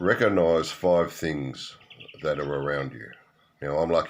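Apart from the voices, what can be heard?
None of the usual background noises is heard.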